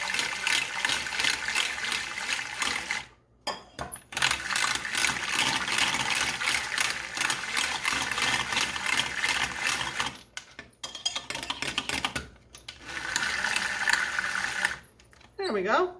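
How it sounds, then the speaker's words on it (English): Beating a French toast egg mixture in a bowl, a continuous rapid whisking clatter close up, broken by a few short pauses and ending with a quick scrape. "Now I'm just going to stir this up really good"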